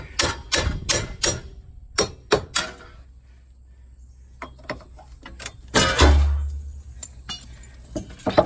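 Metal parts are tapped off the front wheel hub of a 2008 Pontiac G6 2.4 four-cylinder, giving sharp, close metallic knocks in quick bursts, a quieter pause, then more scattered taps and clinks.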